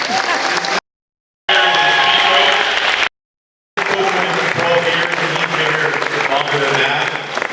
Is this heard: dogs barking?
no